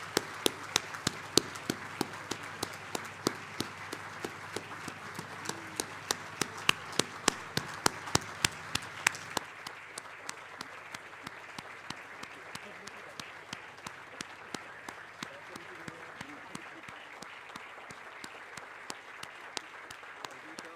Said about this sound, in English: we applaud our learners as they make their way to the stairs